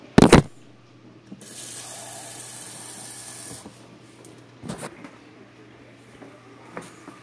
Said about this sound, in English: there's not that much water. I might want to add in a bit more.